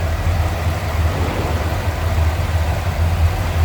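A 1965 Oldsmobile 442 with its 400 engine idles steadily and smoothly, a close, even low rumble with a constant throb and no other sounds.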